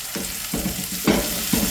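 Mushrooms browning and toasting in a hot frying pan, sizzling steadily while a spoon stirs them in four regular strokes, each stroke bringing a louder scrape and hiss, close and with no voices.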